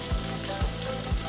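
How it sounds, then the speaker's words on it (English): Steady sizzling of salmon fillets laid skin side down in a hot pan, a continuous crackling hiss with faint scraping strokes repeating every half second or so. "we're just gonna lay this right down in here, skin side down. Get a nice little sizzle"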